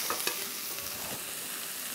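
Onions sautéing in a pan over a medium-high flame, a bright steady sizzle with a couple of quick stirring clicks near the start, close-up and continuous.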